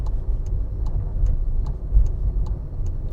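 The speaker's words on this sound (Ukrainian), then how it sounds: "Вмикаю лівий показчик повороту." A car's left turn indicator ticks steadily at an even pace, about two clicks per second, over the constant low hum of the engine during a driving test route, with no one speaking.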